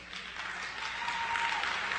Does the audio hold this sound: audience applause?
yes